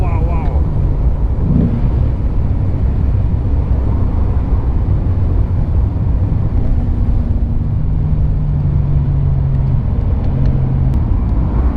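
Inside a moving Morgan Roadster with a 3.7-litre V6, a low engine drone and road rumble fill the cabin steadily, with a faint rise in engine pitch as it accelerates.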